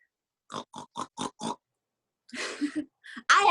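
A voice imitates a pig oinking on a video call: five short, rhythmic grunts, then a pause and a longer, noisier snorting burst, close to the microphone and without other talk.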